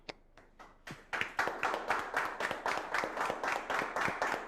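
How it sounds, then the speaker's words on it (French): A small group at a youth football school's draw event claps, starting with a few sparse, separate claps that quickly build into rhythmic, roughly unison clapping, fairly close and moderately loud. "on peut applaudir"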